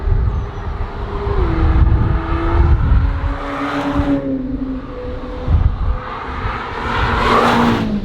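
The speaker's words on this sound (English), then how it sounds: "The Senna is ripping down the track." A McLaren Senna supercar engine roars past on a racetrack with rising and falling pitch, loud and close, with other engine noise trailing behind it.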